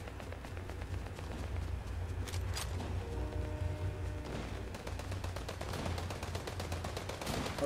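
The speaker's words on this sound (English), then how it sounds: "A lot of shooting going on." Video game gunfire crackles nonstop, with rapid machine-gun bursts and scattered shots layered over a steady low rumble. The firing is dense and moderately loud throughout.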